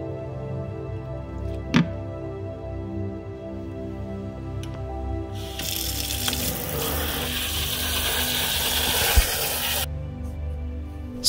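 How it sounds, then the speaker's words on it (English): Water from sauerkraut squeezed with a spoon in a strainer pours down in a loud rushing stream for about four seconds, framed by a couple of soft knocks and a quiet steady background hum. "squeeze out some of the water with a spoon"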